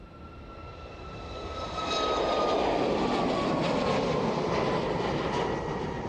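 Ryanair airliner taking off from runway 27 at East Midlands Airport, a loud jet engine roar with a rising whine that swells after two seconds and holds steady, close by.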